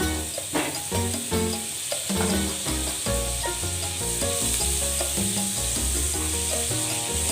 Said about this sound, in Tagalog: Lagay na natin ang ating butter.